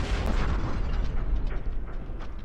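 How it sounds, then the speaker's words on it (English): Explosion effect in the video game Obduction, a dense, rumbling roar with deep low-end boom and scattered crackling pops, sustained and loud throughout with no talking. "I'm pretty sure these explosion effects are literally FMV"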